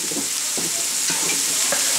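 Broccoli sautéing in a pan alongside shrimp, a close, dense sizzle with a few soft scraping stirs across a short stretch, no talking.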